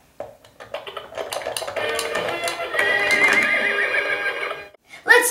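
A Fisher-Price Disney Princess Klip Klop toy stable plays a jingly electronic tune with a horse neigh and clip-clop effects, fairly loud and steady for several seconds, with a brief louder toy sound at the end.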